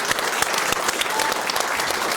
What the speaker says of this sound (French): Mon tonnerre d'applaudissements pour Béatrice Rosen